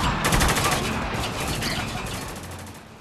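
Heavy gunfire in the video game Spec Ops: The Line, loud rapid bursts of automatic weapons crackling close by with overlapping shots that start strong and gradually thin out over three seconds.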